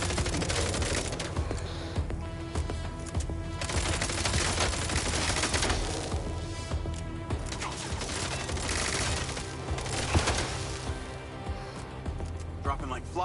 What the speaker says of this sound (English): the recoil on this gun's crazy